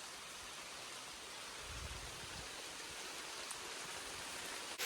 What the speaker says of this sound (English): It is hailing right now.